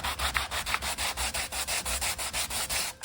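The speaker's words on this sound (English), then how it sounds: "Now we're ready to sand it." Hand sanding of wood with 120-grit sandpaper: rapid, even back-and-forth rasping strokes, about five per second, close and fairly quiet, with no voices.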